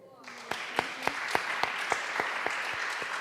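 A congregation claps at a Friday prayer meeting of an Asian church fellowship: a run of about ten sharp, evenly spaced claps over a steady bed of crowd clapping and room noise, fairly close and loud.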